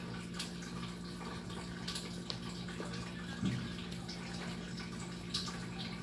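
Tap water runs steadily at close range, a constant wash with a few faint drips and small splashes over it.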